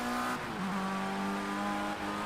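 Race car engine in Project Cars 2 running at high revs on slick tyres, a loud, steady whine that dips and climbs as it shifts, with faint tyre noise beneath.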